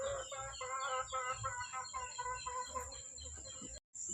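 Chickens cluck in a steady, close, busy chorus at a rural breakfast spot, with a constant high electrical whine over a low background rumble.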